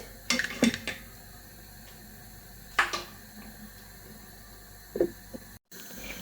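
A metal lid goes back onto a pot of cooking mussels, making a few close clanks and scrapes spaced apart, with quiet simmering between them and no talking.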